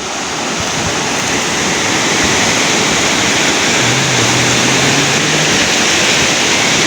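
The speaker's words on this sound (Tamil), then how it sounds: "பாருங்க அப்படி அருவி கொட்டி கொண்டு இருக்கண்டு" A small mountain waterfall near Hatton in Sri Lanka pours in a loud, steady roar of rushing water that fills the whole clip, close and unbroken.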